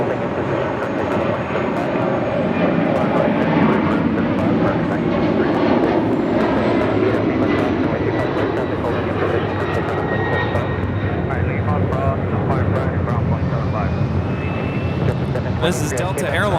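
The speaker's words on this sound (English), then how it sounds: "This is Delta Airlines 688 taking off to JFK on a 767-300ER" Delta Airlines Boeing 767-300ER taking off at LAX, a loud, steady jet engine roar that holds strongly throughout at close range, with a voice talking over it.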